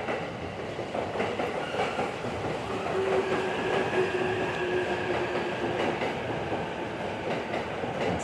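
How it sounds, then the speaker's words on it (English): A rapid express train pulls into Ueno Station, its steady rumble and wheel noise filling the platform throughout, with a faint squealing tone drifting in midway. "Here comes some rapid express train."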